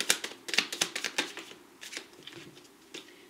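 Tarot cards being shuffled and drawn by hand, a quick run of crisp riffling snaps and flicks up close, followed by softer, sparser card slides, with no talking.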